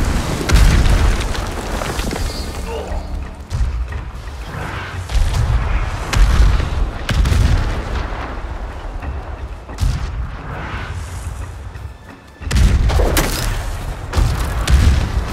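Repeated heavy blasts and booming fire from enemy raiders in the samurai action game Ghost of Tsushima, its Iki Island expansion, loud and close, with bursts recurring through a dense battle din.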